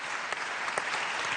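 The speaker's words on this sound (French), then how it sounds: "je vous invite à l'applaudir de nouveau" Audience applause for a trophy winner at a national awards ceremony, a dense, steady burst of clapping from a crowd with a few sharper individual claps standing out.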